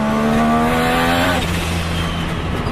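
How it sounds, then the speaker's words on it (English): A sports car engine revs hard and close at high RPM, a loud rising scream with dense harmonics that climbs and then drops away as the revs fall, with no talking over it. "at higher RPMs, this car starts screaming"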